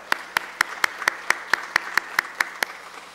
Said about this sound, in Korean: 우리 다시 한번 박수로 축복합니다